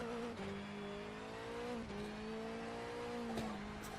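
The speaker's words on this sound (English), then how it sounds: "Power slide." Touring car power sliding on a test track, a loud engine drone with shifting pitch and tire squeal as it slides, a brief sharp change near the end, no talk.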